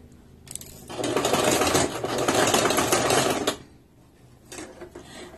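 A sewing machine stitches stretchy fabric for a beginner's top in two bursts: a long, loud, rapid whirring run, then a pause and a shorter run near the end, with no one talking.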